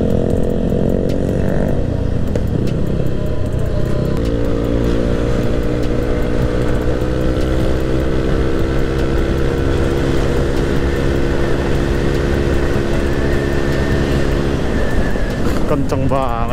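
A Yamaha Aerox scooter with a 200cc bore-up engine roars continuously while riding, its loud engine drone rising and falling in pitch alongside strong wind and road noise, with no pause throughout.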